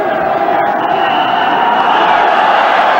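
Cricket stadium crowd at a Pakistan vs India ODI, a steady, loud roar of many voices blending into a continuous wash of distant cheering.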